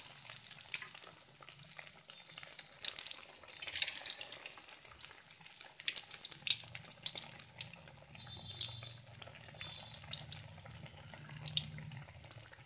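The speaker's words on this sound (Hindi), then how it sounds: "जैसे ही ये फ्राई हुई है, ऊपर तैर कर खुद ब खुद आ चुकी है।" Vegetable lollipops deep frying in hot oil over a medium flame make a steady, close sizzle full of fine crackles and pops that continues unbroken throughout, with no voices.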